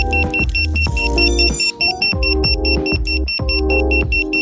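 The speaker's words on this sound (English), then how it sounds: "the beeper of course worked." A shrill electronic FPV drone locator beeper chirps over and over in a quick steady rhythm, sitting on top of a busy pulsing background of music-like thuds.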